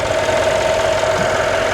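Mercedes-Benz S63 AMG's M157 twin-turbo V8 running steadily at idle after an engine replacement, a continuous close, loud mechanical hum with a steady tone and no talk.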